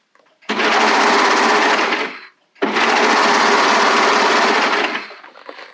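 A sewing machine, likely a serger, stitches picot elastic on a bodysuit in two loud, sustained whirring runs. A brief pause separates the runs, and the motor winds down at the end.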